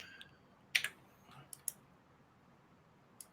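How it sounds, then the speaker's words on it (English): A computer mouse or keyboard clicks over a stream call, giving a few sparse, faint, sharp clicks spread out over quiet background hiss, with no one talking. "I can hear him clicking"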